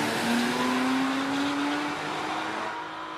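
Porsche Cayman S with a 3.4 litre mid-mounted flat-six engine running at a hill climb, a loud sustained engine drone with a rising tone as the car accelerates, fading slightly toward the end.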